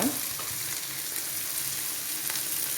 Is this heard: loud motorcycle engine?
no